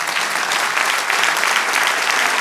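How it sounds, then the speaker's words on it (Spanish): A church congregation breaking into dense, sustained applause, loud and even throughout, with no voices over it. "Denle un aplauso al Señor."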